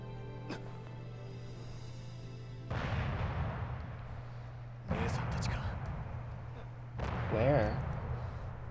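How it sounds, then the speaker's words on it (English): Video game explosions in Final Fantasy XIII, three separate booming bursts spaced a couple of seconds apart, heard at low level beneath a steady background hum. "He just hears explosions."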